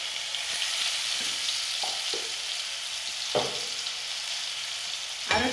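Ground herb leaf paste with tulsi sautéing in a pan for black kavuni rice porridge, a continuous soft hiss of frying with a few dull scraping stirs and a louder knock at the end, no voices.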